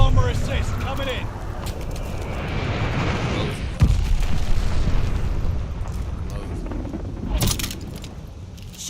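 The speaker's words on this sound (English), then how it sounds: "Glide bomber assist coming in." Glide bomber strike in a combat video game: heavy booming explosions and a continuous rumbling roar, loud and sustained, with voices talking over it and a sharp crack near the middle.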